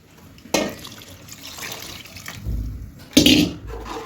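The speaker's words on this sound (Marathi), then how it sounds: "मी आणखीन थोडंसं ह्याच्यामध्ये पाणी ओतून घेते" Water poured into thin sambar in a pot, arriving as two short splashing bursts with a steadier trickling flow between them, close by.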